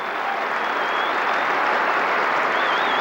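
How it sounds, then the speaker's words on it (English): Steady, sustained applause from a large cricket crowd at Edgbaston greeting Graham Gooch, a dense even patter of clapping filling the whole stretch with no voices over it. "That's a good substantial crowd at Edgbaston here, giving him a warm reception."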